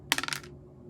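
A single small gold nugget drops onto a hard surface with a bright clink and brief rattle, then fades quickly.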